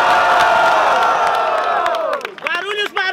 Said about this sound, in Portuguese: Quem gostou das rimas do Basque faz muito barulho